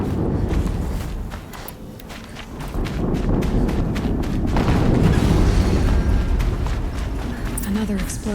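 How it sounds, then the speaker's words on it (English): Another explosion in the video game Horizon Zero Dawn, a rolling deep boom amid dense low rumbling, with crunching footstep-like impacts and scattered clatter throughout, building to a louder swell in the middle. "Another explosion."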